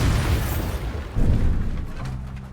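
A Bombarda blasting spell goes off in Hogwarts Legacy, a single deep, rumbling explosion that swells about midway and fades into a low, lingering roar.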